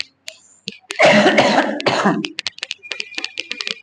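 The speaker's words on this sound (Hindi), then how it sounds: "खांसी बच्चों रुकने का नाम नहीं ले रहा" Several harsh coughs and throat-clearing bursts, one long rasping cough near the start followed by short choppy fits, close and alone.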